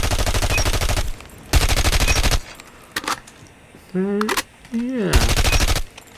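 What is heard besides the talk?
RUS-79U SMG firing in a video game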